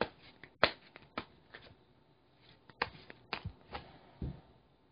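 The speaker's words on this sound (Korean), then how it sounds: "두장 뽑아볼게요, 여러분" Tarot cards are shuffled and drawn in a quiet room, giving a few sharp riffling snaps and soft slides spaced irregularly, close and faint against near silence.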